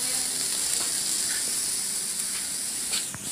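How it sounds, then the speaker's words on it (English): Pork ribs marinated in a spicy sauce sizzle and drip over an open fire, a steady close hiss of fat with a few small pops running throughout, no voices present. "Let me check out the sizzle."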